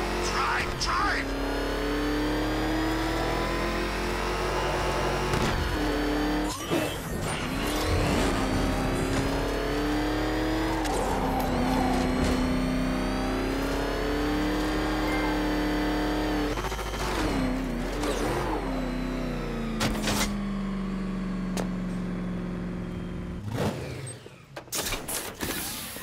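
A car in the video game Batman Arkham Knight speeds off with a loud sustained engine roar that rises and falls, broken by sharp bangs and shouted dialogue over the top.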